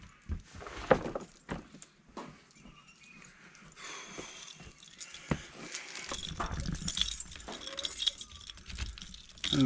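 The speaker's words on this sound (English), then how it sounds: "We need our keys to get our bike lock off." Keys jangling and clinking to remove a bike lock, with scattered metallic rattles and handling noises, close and fairly quiet.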